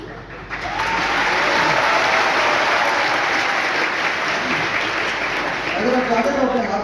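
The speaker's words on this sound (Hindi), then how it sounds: "और कुछ लोग तो हर चीज तालियां बजा रहे हैं" An audience claps their hands in a loud, steady burst of applause that swells after a brief quiet start and holds continuously, with voices faintly audible underneath.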